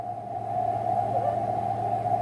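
An FT8 digital-mode signal on the amateur radio bands, received on a vertical antenna, comes through as a steady, unbroken tone over a low hum and faint static, with no voices.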